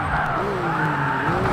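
Tyres squealing in Project Gotham Racing from 2001, a loud sustained screech with wavering pitch over a steady engine roar, continuous and close.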